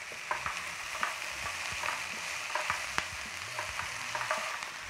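Spinach being stirred over potatoes in a pan for a potato quesadilla, soft crackling sizzle with repeated scraping stirs of a utensil, moderate and close.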